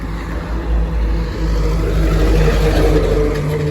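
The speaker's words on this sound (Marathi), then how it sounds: "इकडनं गाड्या चाललेत." Vehicles drive past near Barbie dam in Badlapur, a low rumbling engine drone swelling as traffic passes close by, with outdoor noise around.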